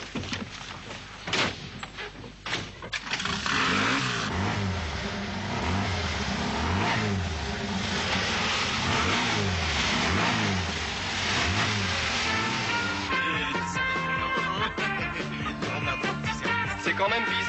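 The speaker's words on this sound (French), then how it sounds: "je vais faire tourner le moteur" A car engine runs at a steady idle, then revs in repeated rising and falling surges that rumble loudly, with a door thud early on and faint voices at the end.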